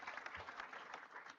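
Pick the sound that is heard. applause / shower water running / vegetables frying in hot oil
applause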